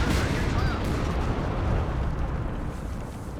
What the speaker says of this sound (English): Shots firing over the place